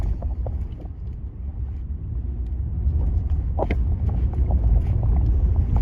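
Car driving on a highway across several states, with a steady low rumble of road and engine noise and wind buffeting the microphone, growing a little louder toward the end, no voices.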